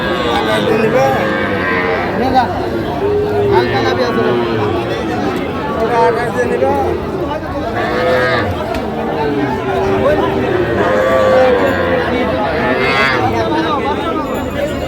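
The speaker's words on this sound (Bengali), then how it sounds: "ষাঁড় আমরা দেখছিলাম এখানে" Cattle and young bulls moo repeatedly at a busy livestock market in Narsingdi, Bangladesh. Several loud, drawn-out calls rise over a constant crowd babble, and people talk nearby throughout.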